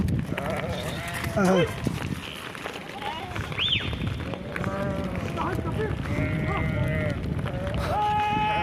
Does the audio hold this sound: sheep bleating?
yes